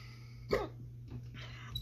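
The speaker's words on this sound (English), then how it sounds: "Hiccups already." A single sharp hiccup-like burst after eating an extremely hot gummy bear, one short loud spasm standing alone over a quiet background with faint breathy sounds afterward.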